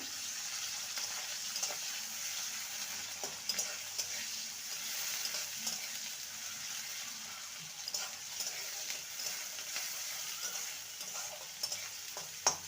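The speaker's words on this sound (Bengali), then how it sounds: "পেঁয়াজটাকে হালকা ভেজে নেব" Finely chopped onion lightly frying in a pan, a steady quiet sizzle with occasional soft scrapes and taps of a spatula throughout.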